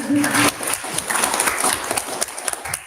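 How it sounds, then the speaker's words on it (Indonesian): Applause from an audience at a school science competition final, a dense wash of clapping with a voice briefly heard over it at the start. "beri tepuk tangan"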